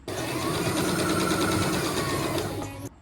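A sewing machine stitches pinned scarf fabric in one steady, continuous motor run lasting about three seconds, close and loud with a fast rhythmic whir, stopping abruptly at the end.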